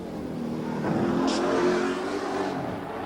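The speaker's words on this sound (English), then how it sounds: "You hear the front of the spoiler just tapping the pavement that time as he came through the corner." A touring car's front spoiler briefly scrapes the pavement with a short hissing rasp through a corner at Bathurst in 1988, heard over the steady drone of a nearby engine.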